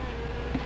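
Wasps buzzing in a 1960 film, a steady, continuous droning hum with no pauses and no voices over it.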